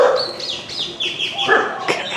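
Dogs bark at a passer-by outside a house with palm trees, a few quick yaps and whines close by amid outdoor background noise.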